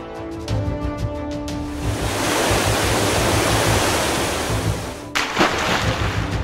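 A rushing spray of cartoon pond water onto a fire gives a loud, steady hissing wash that lasts several seconds and then cuts off abruptly.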